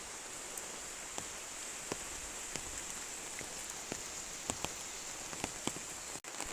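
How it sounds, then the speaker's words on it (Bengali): Steady heavy rainfall on an outdoor surface near a house during a family ceremony, a dense continuous hiss with scattered sharp drip and drop clicks, and no voices. "কিন্তু এত বৃষ্টি হচ্ছে"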